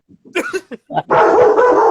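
Dogs bark in a few quick, close yips and woofs, then break into a sustained, louder bout of barking and growling.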